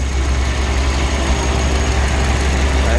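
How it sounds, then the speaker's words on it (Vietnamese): A 2008 Hyundai Elantra with a 1.6-litre engine idles steadily up close, a loud, even low rumble with a faint tick and no voices over it. "Máy nổ êm, máy cực kỳ là chất luôn"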